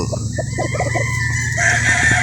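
Local banded gamefowl at a game farm, with a rooster crowing close by amid clucking from other birds and a steady background hum.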